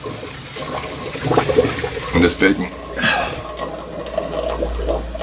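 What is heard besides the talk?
water flowing through aquarium filter overflow pipe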